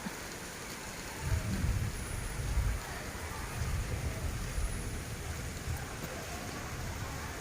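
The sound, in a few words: rain with distant thunder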